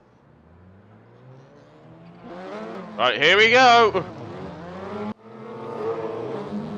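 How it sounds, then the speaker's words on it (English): Touring race cars in a racing video game head up the pit lane at Zandvoort. Engines whine and rev in rising, overlapping tones, with one sharp loud pass, heard under an excited commentator. "look at all those cars heading up the pit lane right now"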